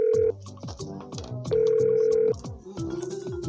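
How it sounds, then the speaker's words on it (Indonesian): In a children's cartoon, a telephone plays a sequence of melodic dialing tones and electronic ring tones, clear and close, in short distinct bursts with synthesized music underneath. "ayo kita telepon ayahmu"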